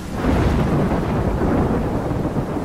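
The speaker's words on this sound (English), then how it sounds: "I'm trapped in a storm?" A dense, rumbling roar of thunder and heavy rain rolls on without a break in the video game Life is Strange, loud and broadband with wind mixed in.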